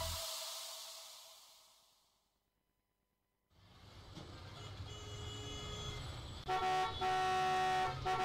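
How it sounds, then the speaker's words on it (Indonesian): A car horn honks in a couple of quick, loud blasts near the end, following a faded tone, a brief silence and rising traffic noise. "Jangan bunyikan klakson berulang kali."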